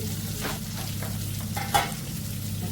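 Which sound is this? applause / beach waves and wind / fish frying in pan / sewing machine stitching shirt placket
fish frying in pan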